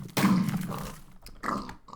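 Pig mobs spawned in the Minecraft video game give two short grunting snorts, one at the start and another near the end, close and clear with no talk.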